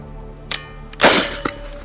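A Swiss Stgw 57 rifle launching a rifle grenade outdoors: a single loud, sharp report with a brief ringing tail, framed by a couple of mechanical clicks.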